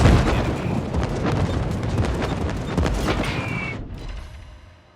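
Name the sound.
aircraft rockets launched in naval video game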